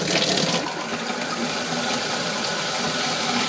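Shower water runs steadily in a home bathroom, a loud, continuous hiss of spray with no break and no talking.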